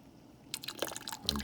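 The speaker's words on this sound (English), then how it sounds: "Give it a little stir." Black dye being stirred into a container of water for dyeing an AR-15 stock, close-up wet sloshing and swishing with small splashes and clinks, quiet overall and building slightly toward the end.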